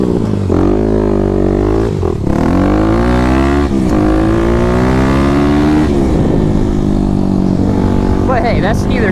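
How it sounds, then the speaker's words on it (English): Kawasaki KLX300 dirt bike, a 2021 model fitted with a Barker exhaust system, revving loudly and continuously, its engine pitch climbing and falling through several throttle blips, close and dominant throughout. "this exhaust just makes you sound like a hooligan"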